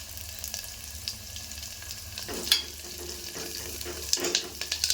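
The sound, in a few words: sautéing small onions and curry leaves in a pan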